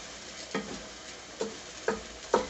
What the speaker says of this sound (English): you're going to stir in the rice and allow it to be coated in the oil and butter